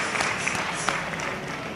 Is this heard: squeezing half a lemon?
no